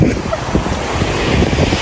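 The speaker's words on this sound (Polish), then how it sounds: "A tu mają morze." Sea waves wash onto a sandy shore under strong wind buffeting the microphone, a loud steady roar of surf and gusts with no talking.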